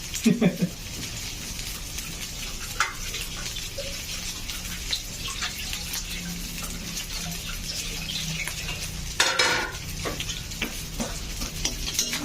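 Cooked rice tossed and stir-fried in a hot pan for provincial-style fried rice, a steady close sizzle with scraping and a brief louder hiss near the end.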